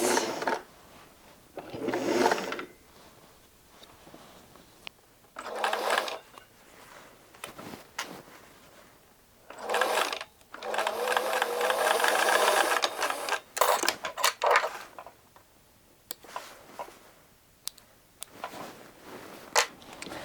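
Sewing machine stitching the waist of pants in short bursts, a few stitches at a time, with rapid mechanical whirring runs separated by pauses and handling noises.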